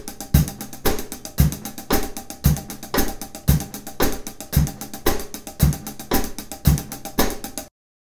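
A steady 16th-note drum groove repeats in an even, driving rhythm, with a low foot-tap thump on each cycle filling a missing note, played alone and close.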